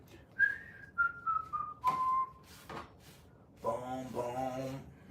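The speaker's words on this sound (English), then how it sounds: "Whistle while you work." Someone whistles a short tune in clear, sliding notes while preparing raw vegan ramen with spiralized zucchini and radish noodles, followed by a burst of kitchen clatter and a voice.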